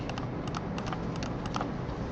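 Keys clicking on a computer keyboard while working in Mastercam X6 CAD software, a steady run of light, close taps repeating about every quarter second over a low background hum.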